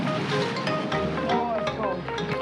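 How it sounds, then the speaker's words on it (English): Ocean surf rolls and crashes at a beach in a continuous loud roar, mixed with gusty wind noise on the microphone. "these waves get big now"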